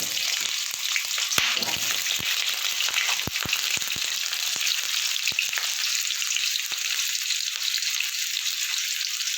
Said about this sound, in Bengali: আলুগুলো আমি ভেজে নেব।